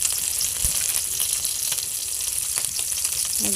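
Small puti and chirai fish frying in a pan, a steady close hiss of sizzling oil with occasional pops and stirring scrapes, no talk.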